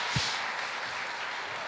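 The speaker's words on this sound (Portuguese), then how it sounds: "Palmas para eles." A short burst of steady applause from a church congregation, a broad wash of clapping that holds evenly throughout without talk.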